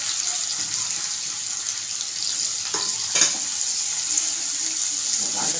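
Chopped onion going into hot oil with garlic for a dry gram-flour zunka, giving a continuous bright hiss and sizzle, with a couple of brief clatters near the middle.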